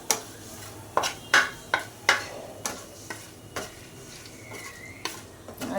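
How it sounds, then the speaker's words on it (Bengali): Five-spice, dried chilli and turmeric sizzling in hot oil, with a steady low fry under repeated sharp scrapes and clinks of a spoon stirring the pan, close and moderately loud. "তেলের মধ্যে দিয়ে দিলাম 5 ফোড়ন, শুকনো লঙ্কা আর হলুদ।"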